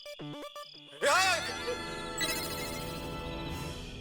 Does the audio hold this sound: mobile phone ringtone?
yes